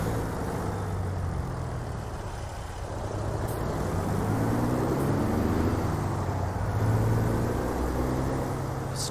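A Jon Ruda 389 truck engine drones steadily at low pitch, a continuous rumble with a faint whir on top and no voices.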